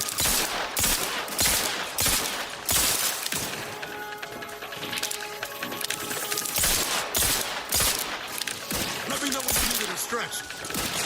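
Rapid bursts of gunfire from a shooter video game, dense cracks and volleys repeating through the whole stretch, loud and close, with game effects and a voice chatting over the shooting.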